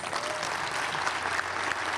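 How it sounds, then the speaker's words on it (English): Steady applause from an audience at an event on addressing hate in school sports, a dense, even clapping that carries through the whole moment. "please join me in giving a final round of applause to all of our kickoff speakers"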